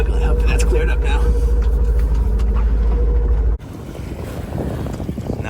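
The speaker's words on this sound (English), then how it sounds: "Now we're just gonna motor sail around here" Sailboat motor sailing off Greece: a steady low engine drone with wind buffeting the microphone, which cuts to softer water and wind noise partway through.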